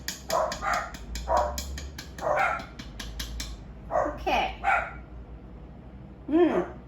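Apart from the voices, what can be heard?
dogs barking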